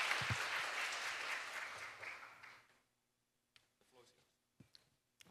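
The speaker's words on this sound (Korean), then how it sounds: "타카르 지부장님을 박수로 맞이해 주시기 바랍니다." Audience at an international development conference in Seoul applauds to welcome a speaker; the broad clapping fades out over a few seconds, leaving near silence broken by a few faint sounds.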